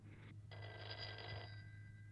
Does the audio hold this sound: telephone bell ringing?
yes